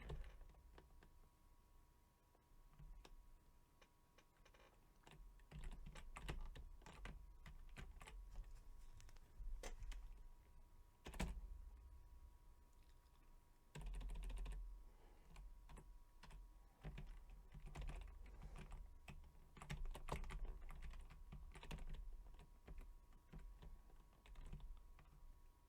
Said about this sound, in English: You get to hear my key presses because I played this game on a keyboard.